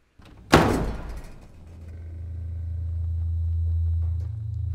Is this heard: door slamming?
yes